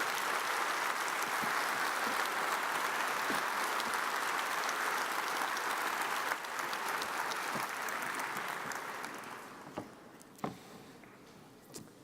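A large audience at a startup competition finals gives judges a long, dense round of applause that holds steady for about eight seconds, then thins into a few scattered claps as it fades.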